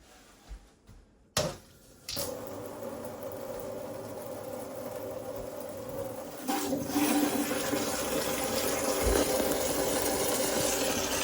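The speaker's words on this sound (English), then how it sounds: "So I'm gonna open up the water and let's let it run." Water runs steadily from a newly installed Kraus pull-down kitchen faucet with a constant rushing hiss that grows a bit louder partway through, after a couple of brief clunks at the start.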